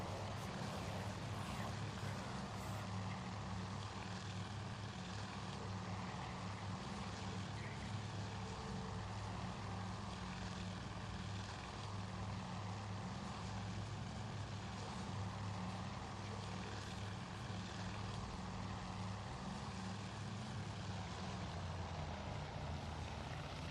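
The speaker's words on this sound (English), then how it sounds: "I think my fighter plane is after someone." Propeller fighter plane engine from a Battle of Midway scenario in the Task Force Admirals game, a steady loud droning hum with constant low rumble throughout, no talk.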